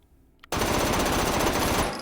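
Sustained automatic gunfire from a video game rifle fitted with a compensator and stock, fired two-handed in a recoil test, bursting in loud and fast without a break for about a second and a half before cutting off.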